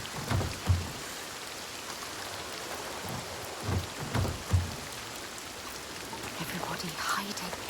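Steady rain falls through a constant storm in the video game Hellblade 2, while several low thunder rumbles roll in at irregular intervals beneath a voice speaking quietly.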